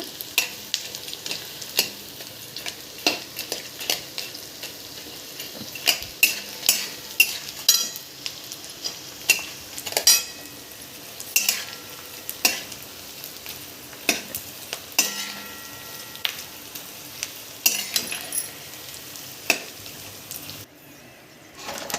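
Edible gum sizzles steadily as it fries and puffs in hot ghee while a spoon scrapes and clicks against the pan in frequent, uneven strokes.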